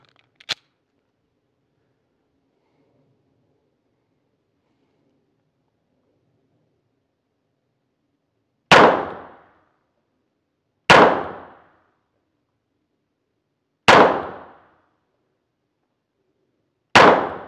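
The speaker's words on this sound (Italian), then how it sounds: "prima prova quindi come al solito lento mirato 10 colpi siamo a 10 metri circa" Slow, aimed shots from an Arsenal Strike One Speed pistol at roughly 10 metres: after a faint early click, four loud, sharp reports ring out alone, spaced a few seconds apart.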